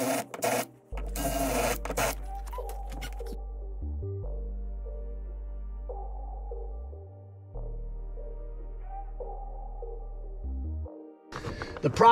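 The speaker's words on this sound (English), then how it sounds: "Right now I am drilling just the heads off so I can peel them out." A power drill bores out rivet heads beneath a GMC Yukon Denali XL. The drill whines steadily in long sustained runs, with brief pauses and shifts in pitch as each rivet head gives way, loud and close.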